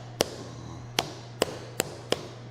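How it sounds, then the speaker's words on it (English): Knife chopping through meat on a board to tenderize it, five sharp, distinct thuds spaced irregularly over a low steady hum, fairly close and clear with no talking. "we can just kind of tenderize it as we cut it and just break some of those fibers down"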